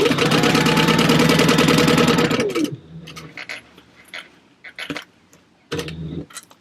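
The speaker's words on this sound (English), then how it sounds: "I'm just going to sew along my gusset" A sewing machine runs steadily along a gusset for a few seconds, then stops; light clicks and handling noises follow before a short second burst of stitching.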